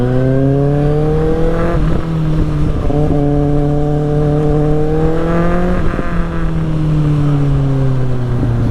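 A Kawasaki ZX6R sport motorcycle in Los Angeles traffic gives a loud, close engine drone whose pitch climbs steadily, dips with each gear change, then climbs again, with no talking.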